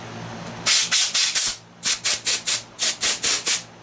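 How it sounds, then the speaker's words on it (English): Compressed air blasted through parts of a 1972 Coleman 200a lantern in eleven short, loud hissing bursts, grouped in quick runs of four, four and three, close up with no talking. "we're going to run some compressed air through all of this"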